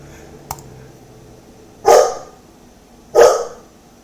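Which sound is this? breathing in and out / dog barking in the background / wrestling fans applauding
dog barking in the background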